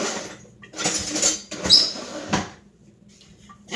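Home kitchen clatter as a plastic spatula is fetched while making pierogi, with close rattling and knocking of utensils and a drawer or cupboard in a few quick bursts, then near quiet.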